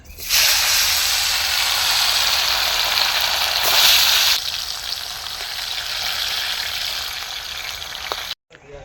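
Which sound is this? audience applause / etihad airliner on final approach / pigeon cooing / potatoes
potatoes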